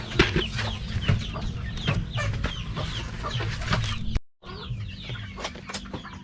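Free-range chickens clucking continuously at close range, with repeated soft calls and a brief break before more clucking resumes.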